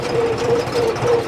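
Close and steady, a John Deere tractor engine drones as it drives circles in a field, with a faint rhythmic tonal pulse over a low rumble.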